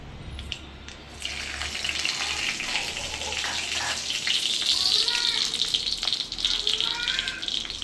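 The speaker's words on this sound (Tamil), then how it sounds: "கடுகு உளுத்தம்பருப்பு பொறிஞ்சிருச்சு" Mustard seeds and urad dal spluttering in hot oil for brinjal chutney, a loud bright crackling hiss that starts after a brief quieter moment and continues steadily, with soft popping bursts.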